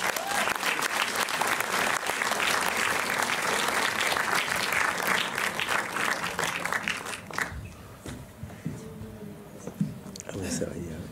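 An audience applauds a festival film jury at a closing ceremony in Montreuil, with sustained dense clapping that thins out toward the end amid scattered crowd murmur.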